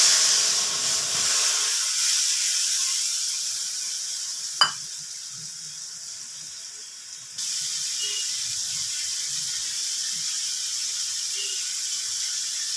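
Salt, turmeric and chilli paste hitting a hot wok, a loud hissing sizzle that settles into steady frying with one sharp click partway, then a slightly brighter hiss continuing to the end.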